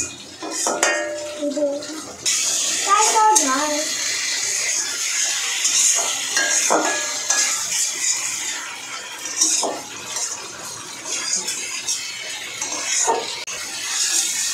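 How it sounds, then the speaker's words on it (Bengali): Potatoes and pointed gourd sautéed with spices in a pan for a Bengali rui fish curry, heard as steady scraping and clinking of a utensil against the pan, close and fairly busy, with no talk. "আর 2 মিনিটের মতো আমি মশলার সাথে আলু পটল একটু ভালোভাবে কষিয়ে নেব"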